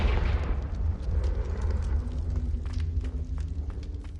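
Confringo blasting spell explosion in a Harry Potter video game: a heavy low boom at the start that rumbles and decays, with faint crackles and small pops trailing off afterward.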